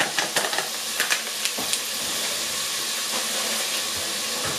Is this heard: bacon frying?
yes